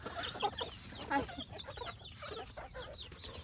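A local-breed rooster on a village farm gives soft, scattered clucks, close but quiet, with a few brief bursts among low background rustle.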